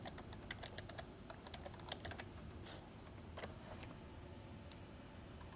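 Light key clicks from someone typing a file name on a computer keyboard, in quick irregular bursts over a steady low background hum, fairly faint and close.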